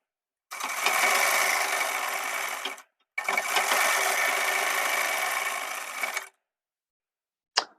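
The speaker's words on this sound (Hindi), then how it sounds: "इस म्यानी पर सिलाई को लगा लेना है" A sewing machine stitches a seam on men's underwear fabric in two steady runs of about two and a half seconds each, separated by a short pause, followed by a brief click at the end.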